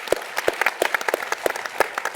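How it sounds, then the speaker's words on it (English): A small audience of guests at a business travel industry event gives a brief round of applause, with sparse, distinct hand claps sounding fairly near in a room. "Let's give them a round of applause."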